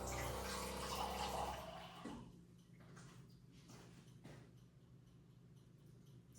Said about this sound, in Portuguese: Só um pouquinho de água, para não grudar também